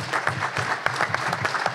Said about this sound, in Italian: un applauso è doveroso